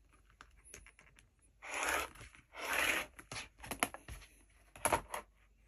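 Rotary cutter slicing quilting fabric into 2.25-inch binding strips along a long ruler, heard as a few close, scratchy cutting strokes with short pauses between them and no talking.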